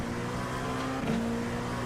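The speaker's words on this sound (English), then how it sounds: "Sounds like a GT3 car got out of the way." A GT3 race car in a sim racing game at Road America roars past, its steady engine note dipping in pitch as it goes by, with no talk.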